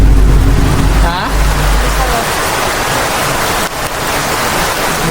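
Heavy rain pouring during a motorcycle taxi ride, a dense steady hiss of downpour and road spray close around, loud and constant with a brief voice early on.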